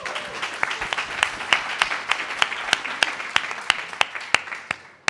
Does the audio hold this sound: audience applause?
yes